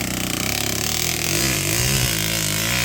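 Motorcycles run close by on a trail near Cebu, a loud, steady engine drone whose pitch wavers and rises slightly, with no other sound standing out.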